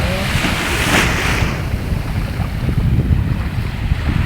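Ocean waves rolling onto a shore produce a loud, continuous broadband wash, with heavy wind buffeting the microphone throughout.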